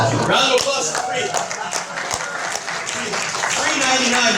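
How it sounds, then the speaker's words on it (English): A round of applause from an audience on a game show floor, dense steady clapping with some cheering and voices mixed in, loud and close throughout. "Round of applause for free."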